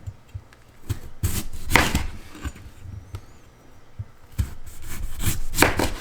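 Knife cutting raw potatoes on a board for homemade garlic french fries, with a few scattered close chops and scraping strokes and no talk.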